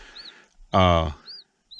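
A single loud hen cluck rings out close by, short and throaty, with faint high chirps before and after.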